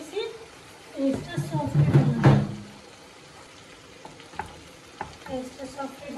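Fresh chicken breast simmers and sizzles in a little water in a pan on the stove, with a loud stirring scrape in the middle and quieter sizzling and clinks afterward. A voice talks in the background.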